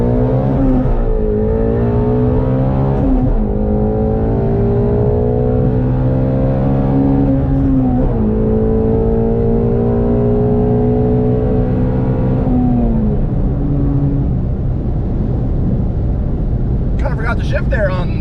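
A Ford Mustang Shelby GT350 accelerates hard from about 30 mph, its engine note climbing steadily through the gears with brief dips at each shift, loud and close throughout, ending in a sharp burst of high noise.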